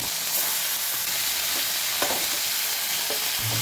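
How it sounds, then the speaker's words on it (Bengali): Pomfret fish frying in hot oil gives a loud, steady, close sizzle throughout, with a few soft clicks of stirring or turning in the pan. "বাকি মাছগুলোও একইভাবে ভেজে নেব।"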